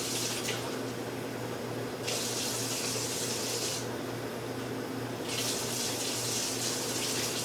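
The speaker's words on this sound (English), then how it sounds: "get some water. And I'm going to start with 1 cup of water." Tap water runs steadily into a measuring cup while a cup of water is measured out for sourdough bread, a continuous close hiss with slight changes in tone as the stream shifts.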